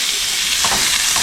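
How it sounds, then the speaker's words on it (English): Garlic sizzles in a hot pan alongside sausage, a steady close frying hiss with a brief stir or clatter partway through, no voices. "And I'm going to go ahead and add the garlic."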